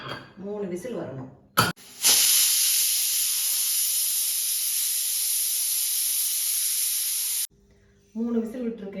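Pressure cooker whistling loudly while mutton cooks for biryani, a steady, powerful steam hiss lasting about five seconds, with a voice speaking before and after it.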